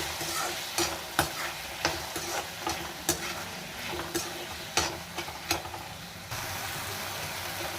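Tomatoes cooking down in a pan, stirred with a utensil that scrapes and knocks against the metal at an irregular pace over a soft, steady sizzle, close by and without talk.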